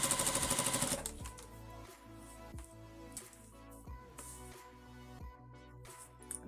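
A sewing machine runs in steady bursts while stitching two flat layers of fabric to set a basic zipper, its rapid mechanical whirr starting and stopping close by with no talk.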